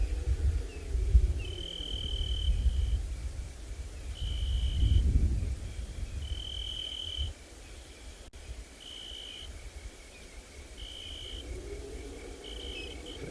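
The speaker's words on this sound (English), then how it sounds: "We can hear some cicadas off in the distance, busy calling, and various other types of crickets" Insects call at sunset on a safari: regular pulsing buzzy bursts from cicadas and crickets repeat in an even rhythm, set against a low breezy rumble from the open landscape.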